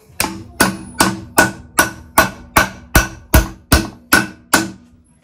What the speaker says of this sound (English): I get the hammer. Gonna tap them on.